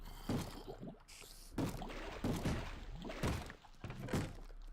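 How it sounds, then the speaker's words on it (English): A Minecraft zombie in the FTB modpack banging on a door: repeated dull wooden thuds at roughly one-second intervals, moderately loud, with no voices. "that guy's banging on the door, and it's really annoying"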